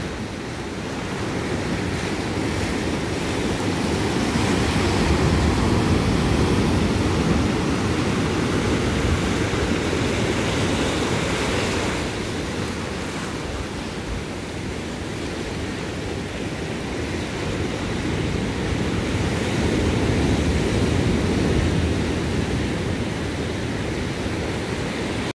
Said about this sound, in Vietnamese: sóng biển đánh vô bờ.